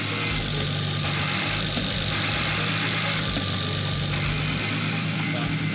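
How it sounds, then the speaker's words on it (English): A pink R32 Nissan Skyline with an RB25 engine swapped in idles with a new Direct Clutch Industries twin-plate clutch, giving a steady, loud, continuous rumble that stays constant throughout, with speech likely mixed underneath. "Direct clutch twin plates, they sound nice."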